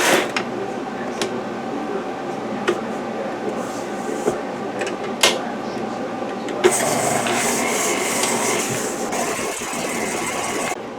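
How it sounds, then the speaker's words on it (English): A stand mixer fitted with a whisk attachment creams butter and sugar for Christmas cookies, giving a steady motor whir with occasional clicks and knocks, then turning louder and brighter partway through as it runs on. "put your blade thing on, your whisk attachment, and let's get that starting to cream together"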